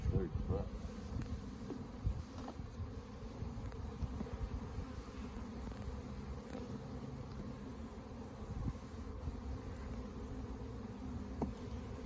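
Bees buzz steadily around an opened hive during a spring inspection, a dense close swarm drone holding at even loudness throughout with a few brief handling knocks.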